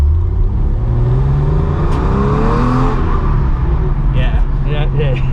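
A Porsche 993 C4 with a modified exhaust and airbox revs and pulls under load, a loud, continuous engine drone rising and falling in pitch from inside the car, with brief voices over it.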